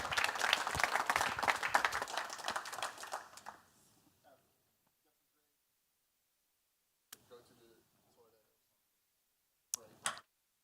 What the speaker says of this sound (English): Then it's time to give another warm round of applause.